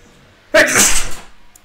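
A single loud, close sneeze bursting out abruptly and fading quickly, during a Czech/Slovak Minecraft livestream.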